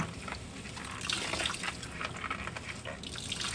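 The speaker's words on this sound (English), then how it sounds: "Just rinse in clear water and" Dyed fiber rinsed under clear running water from a sink tap: a steady, close hiss of flowing water with irregular splashing and sloshing as the fiber is worked and squeezed.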